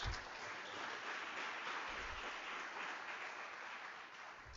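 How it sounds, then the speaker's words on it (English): Steady applause from a crowd fills the whole stretch, a dense even wash of clapping heard from a distance. "let's give them a round of applause."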